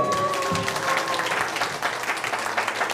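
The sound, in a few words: applause for Dong-wook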